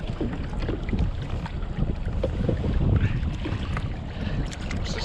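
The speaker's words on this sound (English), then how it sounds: "Alright, we got the motor on now in" Side-mounted motor on an Ascend 10T boat running at low speed, a steady low rumble mixed with water wash and wind buffeting on the microphone, constant and fairly loud, with no talking.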